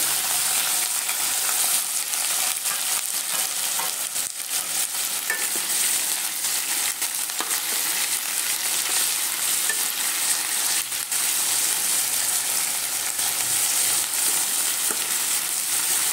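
Cumin seeds and ridge gourd fry in about three ladles of hot oil, a dense, continuous crackling sizzle with faint stirring scrapes and no talk.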